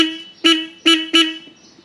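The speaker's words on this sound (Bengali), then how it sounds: "Single হর্নের sound." A Royal Enfield motorcycle's single horn gives three short, loud honks close by: one, then a pause, then two in quicker succession, with a faint tail afterward.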